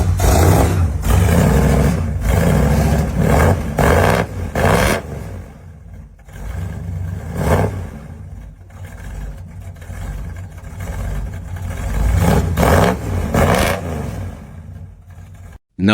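A 1973 Ford F-250 with a big block engine roars and revs close by, the loud rumble rising and falling in repeated surges over sustained idle, with no talk.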